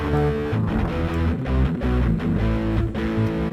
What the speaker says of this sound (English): getting a lot of distortion.